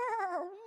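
A person imitates a dog, making a brief whining, whimpering vocal sound alone and fairly close.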